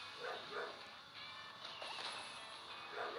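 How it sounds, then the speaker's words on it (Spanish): Several dogs bark at strangers walking past in the street, giving a few short, sharp barks spread through the moment. They sound moderately distant and faint against quiet background noise, with no talk. "Escuchar los ladrados ya."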